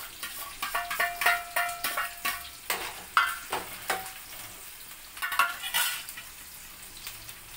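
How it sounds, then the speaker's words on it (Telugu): Onions and green chillies fry lightly in oil for a mutton curry, a crackling sizzle broken by repeated scrapes and clinks of a spoon stirring against the pan. "ఆనియన్స్, పచ్చిమిర్చి ఆయిల్లో వేసాం కదా, ఇలా లైట్గా కొంచెం ఫ్రై అవ్వాలి"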